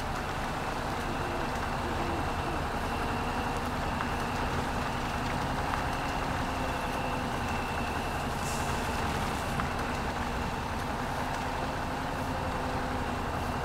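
A truck creeps along in first gear without all-wheel drive or differential lock engaged, its steady low engine drone and rumble continuing throughout, with no talking.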